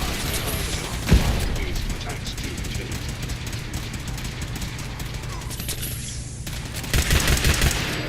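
Gunfire in the video game Fallout 4, a steady rattle of mechanical game audio with short bursts near the start and louder rapid fire toward the end, continuous throughout.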